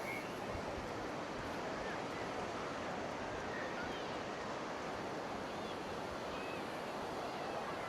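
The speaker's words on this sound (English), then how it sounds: "This is the Atlantic Ocean." Atlantic Ocean surf breaks on a sandy North Cornish beach in a continuous, fairly faint wash, with some wind buffeting the microphone and no speech.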